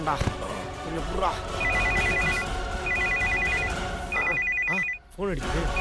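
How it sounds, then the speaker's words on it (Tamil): A telephone rings in repeated electronic bursts in a Tamil TV drama scene, clear and fairly loud over background music and ambient sound. "ஃபோன் அடிக்குது."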